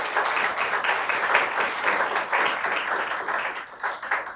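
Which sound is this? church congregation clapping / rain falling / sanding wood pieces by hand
church congregation clapping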